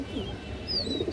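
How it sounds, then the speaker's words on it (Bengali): A green-necked female pigeon coos in a low, continuous rolling murmur, close and moderately loud, with faint high bird chirps sounding in the background. "খুব সুন্দর একটা মাদি কবুতর"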